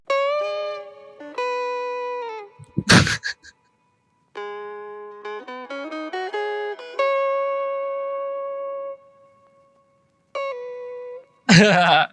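Dry electric guitar with no reverb, playing short clean melodic phrases with pauses between them and a couple of sharp noisy bursts.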